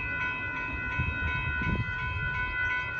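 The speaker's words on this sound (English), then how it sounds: "now here comes Amtrak Texas Eagle 22 train leading" Northbound Amtrak Texas Eagle 22 passenger train at a road crossing in Austin, Texas, giving a steady rumbling roll with a sustained tonal hum throughout, close and continuous.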